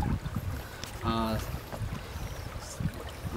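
A boat crosses a river after a bridge collapse, its steady water and motor rumble running throughout, with wind noise, a brief tonal hum and a voice speaking over it.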